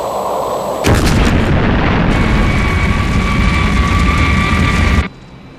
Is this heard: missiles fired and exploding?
yes